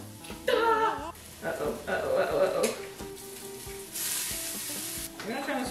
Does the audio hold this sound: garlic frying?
yes